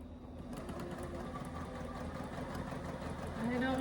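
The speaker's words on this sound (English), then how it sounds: "I'm going to sew right along the side of my line" A sewing machine stitches along a drawn line on a Tilda quilt block, giving a steady, close mechanical whir that holds throughout and swells slightly near the end.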